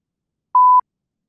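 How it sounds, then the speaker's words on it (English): One short, clean electronic beep at a single steady pitch sounds alone in silence. "The shortest beep I've ever heard."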